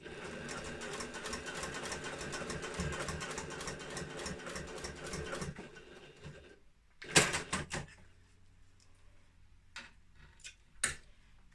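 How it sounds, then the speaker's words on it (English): A sewing machine stitches down a seam on a fabric bag in a steady, fast mechanical whir that runs for several seconds, then stops, followed by a few sharp clicks and knocks from handling the fabric and machine. "I'm just going to stitch this one down."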